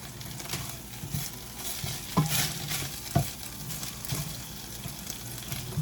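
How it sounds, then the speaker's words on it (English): Cream cheese and Parmesan melting in a pan as they are stirred, with soft sizzling under a few scraping strokes of the utensil, fairly quiet and close. "I'm going to add in a couple tablespoons of cream cheese. I'm going to have this melt away here."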